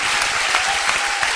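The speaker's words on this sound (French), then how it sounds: "S'il vous plaît, applaudissez Vanessa." A TV quiz show studio audience on Quotient Intellectuel breaks into loud, dense, continuous applause that fills the whole moment with no talking on top.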